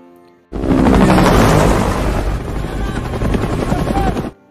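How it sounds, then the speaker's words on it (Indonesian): A helicopter roars loudly and steadily overhead, its rotor thumping with a dense, rumbling wash of engine noise that cuts off abruptly. "sebuah helikopter terbang ke hutan"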